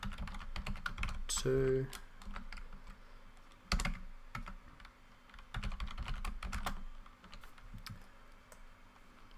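Quiet typing on a computer keyboard while coding CSS, with irregular clusters of soft key clicks throughout and a brief spoken word near the start.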